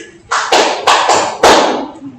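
A classroom of students clapping in unison, five sharp claps in quick succession within about two seconds, loud and close with no voices.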